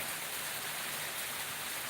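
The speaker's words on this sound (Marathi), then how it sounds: "पाऊस पडत आहे सध्या पाऊस चालू झालेला आहे" Steady rain falls in a village, a dense, even hiss of drops on surfaces that holds constant for the whole stretch with no voices.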